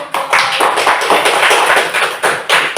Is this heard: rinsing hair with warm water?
no